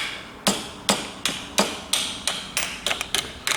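An injector seal on a Ford Focus 1.6 HDI is lightly tapped into place with a hammer through a small cup, producing about a dozen sharp metallic knocks, evenly spaced at first and then quicker, close and clear with no talking.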